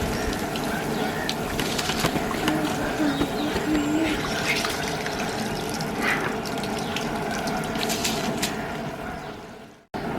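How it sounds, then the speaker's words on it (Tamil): Soaked rice is tipped into a large pot of boiling water for a 5 kg vegetable biryani, giving a steady loud watery rush and bubbling that runs for about ten seconds before cutting off. "தண்ணி நல்லா கொதிக்க ஆரம்பிச்சிருச்சு. இப்போ ஊற வச்சிருக்கிற அரிசி போட்டுக்கலாம்."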